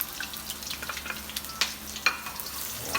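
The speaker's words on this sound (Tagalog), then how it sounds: "Pag mainit na yung ating mantika, ilalagay na natin yung ating bawang." Garlic and onion frying in hot cooking oil for a Filipino sautéed vegetable dish, a steady close sizzle with scattered crackles and a few sharper pops, no talking.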